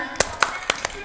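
Hands clap along to a children's action song, four sharp, evenly spaced claps ringing out close by over a soft backdrop of singing voices.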